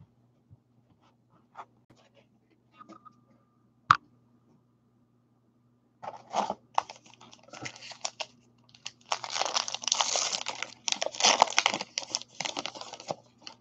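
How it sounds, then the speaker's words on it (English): Trading cards from a 2019 Topps Allen & Ginter break are shuffled and restacked by hand, with a few soft clicks and taps early on followed by sustained close papery riffling and scraping. "And restack these, shuffle these up, move them over."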